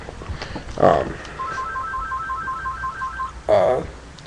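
An electronic ringtone trills in a rapid repeating pattern between two short bursts of speech, fairly close and clear.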